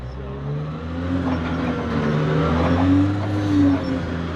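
Caterpillar haul truck with a Tier 3 engine revving in a Southern California rock quarry, a steady low diesel drone that swells and surges in pitch, loud and fairly close throughout.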